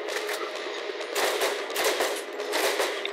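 Rapid automatic gunfire in the first-person shooter Borderlands, aimed at a huge boss's eyes, comes in repeated clattering bursts with short gaps, loud and close.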